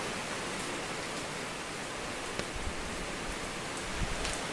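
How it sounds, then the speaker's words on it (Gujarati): Heavy rain pouring onto a metal sheet roof, a dense, steady hiss of drops with occasional heavier thuds, continuous and enveloping with no talk. "એટલો વરસાદ આવી ગયો."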